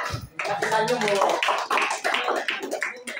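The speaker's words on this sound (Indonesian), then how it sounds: "lebih semangat kita tepuk tangan dulu untuk kelompok 2" A classroom group claps together in brisk, fairly close applause, with voices mixed in as the clapping carries on.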